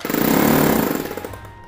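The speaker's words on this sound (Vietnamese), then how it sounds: "Chức năng khoan bê tông, con này lực búa rất là mạnh nha anh em" A Bosch rotary hammer drill runs in concrete mode, hammering loudly and close by with a fast, steady pounding rattle that fades toward the end.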